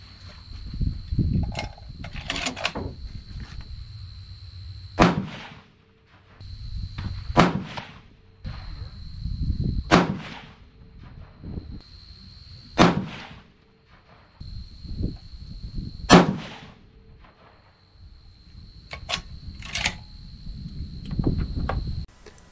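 Series of sharp, loud 300 PRC rifle shots fired with Retumbo powder loads, each blast spaced several seconds apart with quieter shuffling and handling noise between them, against a faint steady whine.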